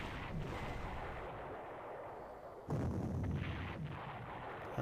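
Artillery fire in the Panzer Corps war game strikes a battleship off Norway. Two heavy booming blasts, the second sharper and louder, rise over a rumbling background with no voices.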